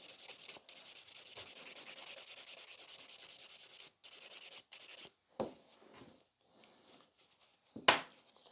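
Steady back-and-forth filing rasps against a sculpted fiber gel nail extension, thinning the thick free edge in continuous close strokes for about five seconds, then a few softer, scattered scrapes and a sharp final stroke.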